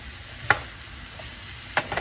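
Sweet potatoes sizzle softly in a pan, with two quick scraping stirs of a utensil standing out over the low, steady frying hiss.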